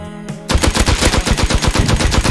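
Rapid automatic AK rifle fire in the online survival game Rust, a close, loud stream of evenly spaced shots that starts abruptly after a brief quiet moment and keeps going.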